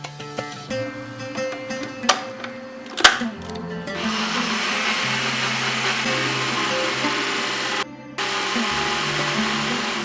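An electric blender grinds green chili into a paste with very little water, starting with a few clunks before settling into a loud, steady whirring drone that briefly cuts out and resumes.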